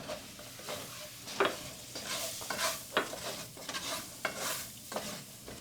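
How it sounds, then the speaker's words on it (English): A Cajun roux in a pan is stirred steadily with a spoon, giving repeated soft scrapes and light frying crackle in an even rhythm at moderate loudness, with no talking. "Always keep it moving, keep it stirring."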